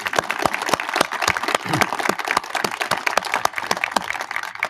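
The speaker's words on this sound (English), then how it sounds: "I think that deserves a round of applause." A crowd applauds at a live event with Utah Gov. Cox and U.S. Transportation Secretary Pete Buttigieg, steady dense clapping from many hands, fairly close and sustained, with a few sharper individual claps standing out.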